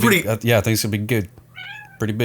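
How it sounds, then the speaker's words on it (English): A house cat meows once, short and fairly clear, in a brief gap between spoken voices in a room. "Was that a cat? That was a cat."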